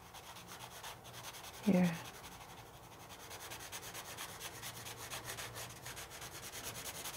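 Drawing tool shading on paper while sketching an animal, faint steady rubbing and scratching strokes close by, with one brief louder thump early on and a single spoken word.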